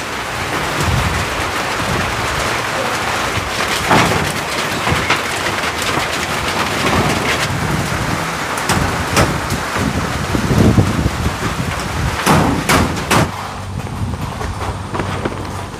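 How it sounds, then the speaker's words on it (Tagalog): Heavy rain pours steadily over a house getting a new roof, a dense continuous roar with occasional louder thuds and knocks near the end; no one speaks. "abutan pa ng malakas na ulan"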